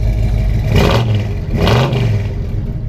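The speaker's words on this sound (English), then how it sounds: "It sounds really nice, that 454 and that dual exhaust" A 1978 Chevrolet K10 pickup's 454 V8 revs twice, each deep throaty surge through dual exhausts rising and falling over a steady rumbling idle, close by.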